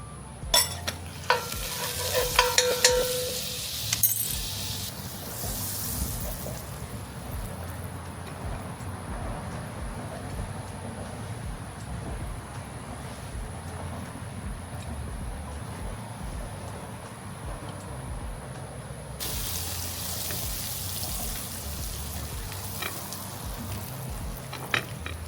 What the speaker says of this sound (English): We'll butter the pan, drop the buns in